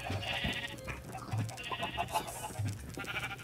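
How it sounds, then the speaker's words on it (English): A light blue sheep bleats in a blocky video game, several short bleats at close range with quieter game ambience between them and no voices. "Okay, this is a light blue sheep."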